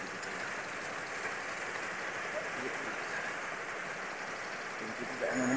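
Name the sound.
heavy rain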